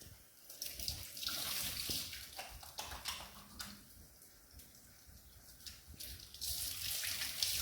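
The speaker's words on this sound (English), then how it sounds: "Roll up long sleeves and wash hands." A kitchen tap runs while hands are washed before cooking, a close, continuous splashing stream broken by uneven bursts of scrubbing and rinsing with no voices.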